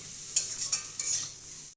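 Fish masala with fennel seeds is stirred in a hot pan, a steady sizzle with a few spoon scrapes and clinks across a brief moment.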